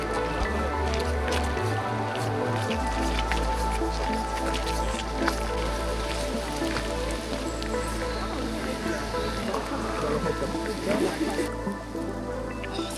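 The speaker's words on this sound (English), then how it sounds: "The rain sounds. It's also not really heavy rain because trees are really protecting us." Light rain falls through a forest canopy, with steady soft drips and patters spread across the scene under a constant wet hiss, close and continuous throughout.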